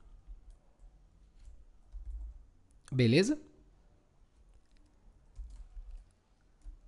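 Faint, scattered keystrokes tap on a computer keyboard while code is typed, with someone briefly speaking over them.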